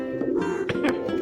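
Pigeons cooing nearby, a brief run of low, throaty, rolling coos overlapping one another with no talk.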